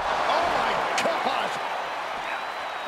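A foot DDT in a WWE Championship match involving a wrestler lands as a dull thud on the mat, heard under an excited commentator's voice and arena crowd noise.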